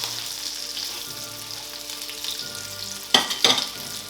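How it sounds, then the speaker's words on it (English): A pork chop sizzles loudly in a pan of browned butter, a steady close-up hiss with sharper spitting bursts near the end and no voices. "The butter is nice and brown, and in goes our pork chop."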